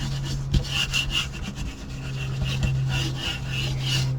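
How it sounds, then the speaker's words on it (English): Paper is burnished onto a mini album page with repeated rubbing strokes, a close scratchy back-and-forth scraping in a steady rhythm over a low background hum. "make sure that everything's burnished in really good."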